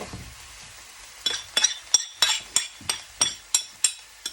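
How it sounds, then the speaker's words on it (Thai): Pork being dry stir-fried with khua kling curry paste in a pan, heard as a steady series of about ten close, sharp scraping and clinking spatula strokes against metal over a faint sizzle, with no talking. "แล้วจะคั่วแบบแห้งอะนะคะ แล้วก็ใส่หมูลงไปเลย"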